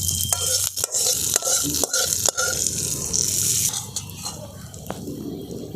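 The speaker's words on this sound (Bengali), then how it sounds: "এরপর আমি একদম এই চাটনিটার সাথে তড়কাটা দিয়ে দিচ্ছি" A hot tempering of curry leaves is poured onto chutney, giving a loud close sizzle with several sharp clicks and pops early on, settling into a steady hiss.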